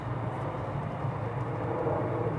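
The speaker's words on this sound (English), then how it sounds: "Right as the plane comes over and a train." A steady, broad roar from a plane passing overhead together with a passing train, heard at a carp fishing lake at Barston, a continuous distant rumble with no pauses and no talking.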